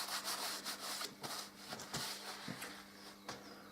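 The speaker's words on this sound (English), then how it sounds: "So, wipe this stuff off my fingers." A rag rubs grease off fingers after work on a Harley Davidson Deuce, a quiet, close run of soft irregular scrubbing strokes with no talking.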